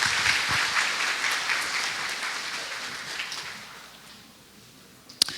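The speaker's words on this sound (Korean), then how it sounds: "함께해 주신 정 대표님께 여러분 박수 한번 부탁드립니다." Applause from the audience at a Korean SQL talk-show event, a sustained wash of many hands clapping that gradually fades over several seconds, ending with a couple of sharp isolated claps.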